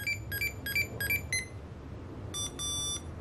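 A first-generation Tamagotchi toy beeps in quick chirping bursts, then a longer buzzing tone, thin and high-pitched with no talking.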